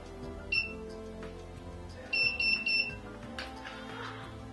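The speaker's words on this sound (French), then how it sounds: "On attend que le bip s'arrête." Short high-pitched electronic beeps from a Babyliss Secret Curl-style automatic hair curler, one alone and then a quick run of three, over quiet background clatter.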